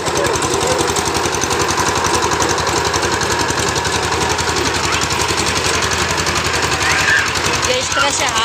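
A small hand-held tractor engine ploughs a hill field, chugging in a steady rapid rhythm that stays loud and close throughout, with voices talking faintly over it.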